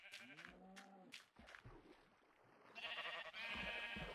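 Sheep in the Minecraft video game bleat in several quick, wavering calls close by, followed by louder, buzzier bleats near the end with no talk over them.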